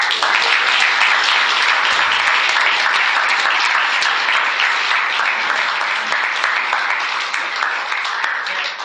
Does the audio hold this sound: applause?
yes